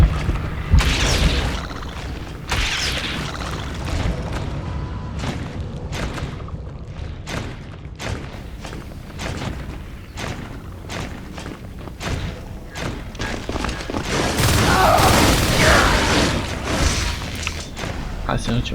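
A mine exploding in the sci-fi shooter Natural Selection 2, heavy booms and thuds mixed with game noise and someone talking over it.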